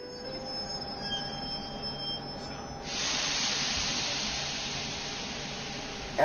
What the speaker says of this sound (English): As the train came to a sudden stop and the smoke from the engine passed over